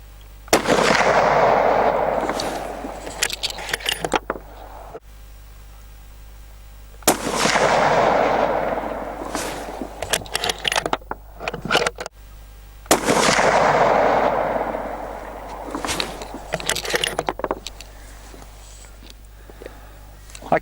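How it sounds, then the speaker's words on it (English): Three shots from an Anschutz 1780 .308 rifle firing Federal 180 grain ammunition: three loud, sharp cracks spaced about six seconds apart, each followed by a ringing decay and small handling clatter, with a voice heard faintly in places. "now 3 shots of the Federal 180 grainers, the blue packet stuff."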